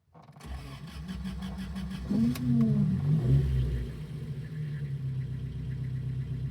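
A warm 1974 Alfa Romeo GTV 2000 engine starts: a short starter crank catches into a revving burst, then settles to a steady, close idle with no talk.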